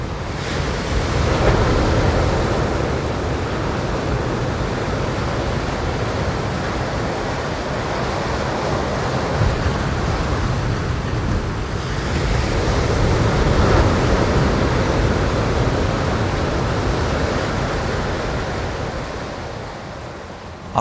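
Ocean waves roll steadily onto a beach on Australia's east coast on a hot, humid, overcast day, a continuous loud wash of surf with gentle swells in intensity and some wind, with no voices.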